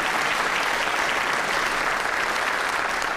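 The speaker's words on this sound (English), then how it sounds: "You can clap." Loud, dense clapping from a large crowd at a high school graduation ceremony, sustained and even throughout with no pauses and no voices on top.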